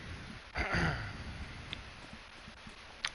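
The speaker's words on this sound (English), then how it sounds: "try not to cough into the mic" A short throat clearing and cough lands close on a standard gaming headset microphone, one rough burst followed by quiet room noise and a few faint clicks.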